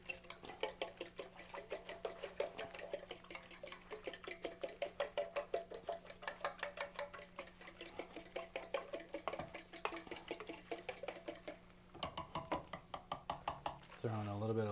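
A utensil whisks eight cracked eggs in a pan into an omelet-style mixture for pasta, making a fast, steady run of close metallic clinks and taps with a brief pause near the end, as a voice talks under it.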